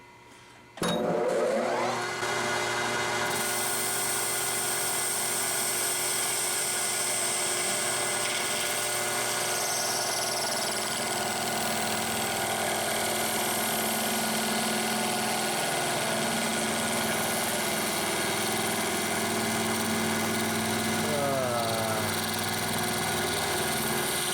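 A high-speed rotary cutter slices through an epoxy and brass tap handle, a loud steady whine holding for over twenty seconds with shifting pitch as the cut progresses.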